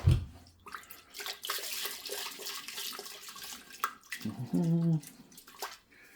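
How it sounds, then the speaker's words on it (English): Leftover green water from steamed vegetables poured into a casserole pan to rinse it, a steady splashing pour lasting several seconds, followed by a brief clatter and scrape as the pan is handled. "I've got some green water left from steaming the vegetables, so let's rinse that out"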